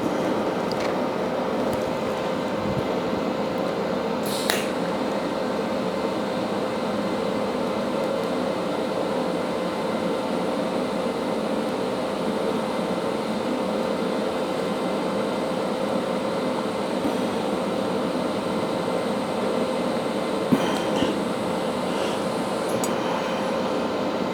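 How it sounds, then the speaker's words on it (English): Welding on a costume headpiece gives a continuous, even buzzing hiss up close, with a few brief clicks and pops scattered through it and no voices. "You got to be fairly accurate with your welding in order to do it."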